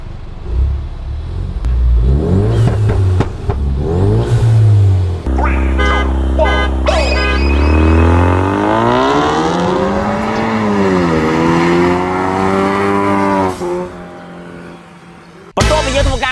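A Yamaha X-Ride 125cc motorcycle and a car race on a track, with loud, close engine revving that climbs and falls in pitch through repeated acceleration before cutting off abruptly near the end.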